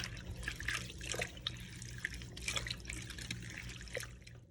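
Tap water runs into a sink while vegetables are washed, a quiet continuous splash and trickle with intermittent brighter spatters from rinsing, heard alone and close.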